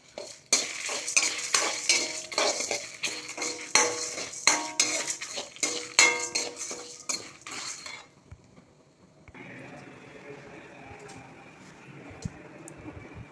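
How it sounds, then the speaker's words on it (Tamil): Black pepper and dried chillies dry roasted in a pan, a close, busy rattle of hard spices and repeated clinks of a spoon against metal for several seconds, then a quieter, fainter hiss. "குருமிளகு, மிளகா வெத்தல் எல்லாமே நல்லா ட்ரை ரோஸ்ட் பண்ணும்."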